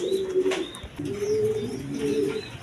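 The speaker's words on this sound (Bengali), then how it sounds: "এখানে এক পেয়ার বোম্বাই কবুতর" A pair of Bombay pigeons, one male and one female, coo in low, rolling phrases at close range, with a short pause between bursts and no voices.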